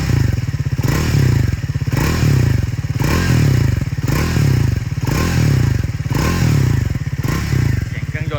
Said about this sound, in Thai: ในเสียงตอนเบิ้ลนะครับ